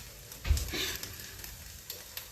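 Spices roasting in a pan with green peas and pepper for a South Indian kootu: a soft, steady sizzle with a brief louder stir or clatter near the start.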